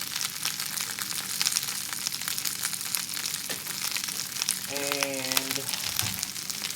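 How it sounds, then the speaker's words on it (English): Collard greens sizzle and fry in oil in a pan, a steady crackling hiss throughout with seasoning sprinkled over them; a brief spoken word and a short clatter near the end. "put them in a pan in some oil, and now I'm sprinkling some seasoning on them."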